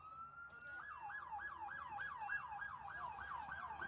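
A wailing emergency siren rises then cycles steadily up and down, carrying clearly over a low background rumble during a women's football game between the LV Silver Stars and LA Bobcats.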